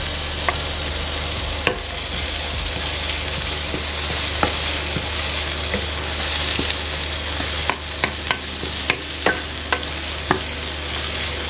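One chopped tomato sautés with translucent onions in a pan, making a continuous close sizzle broken by sharp clicks and taps from stirring, growing busier toward the end.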